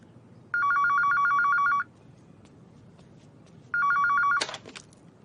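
A telephone rings while a call is placed to a suspect, two bursts of trilling electronic ring separated by a pause, loud and clear over faint room noise, ending in a brief clatter as the line is picked up.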